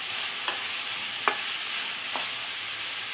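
Onions fry in a pan until golden brown for a green peas egg masala, a constant loud sizzle broken by three brief scraping strokes of a spoon stirring them, close and without voices.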